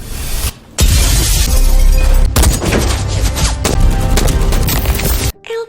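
Gunfire bursts through a prison-break action film scene, loud rapid volleys with brief pauses between them, ending abruptly.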